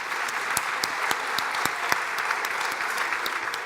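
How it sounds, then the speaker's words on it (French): Audience applause at a corporate round-table conference on gender parity, a dense steady wash of clapping with sharp individual claps standing out, sustained throughout. "Je voudrais d'abord que vous puissiez applaudir pratiquement la parité de cette table ronde."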